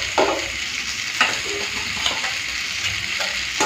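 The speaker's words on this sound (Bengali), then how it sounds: "তো সবজিটা ভালো করে ভেজে নিয়েছি, এরপর ভেজে রাখা মাছের মাথাগুলো দিয়ে দিচ্ছি" Vegetables frying with fried fish heads added for a Bengali chorchori, a steady loud sizzle with occasional clinks and stirring scrapes of a utensil in the pan.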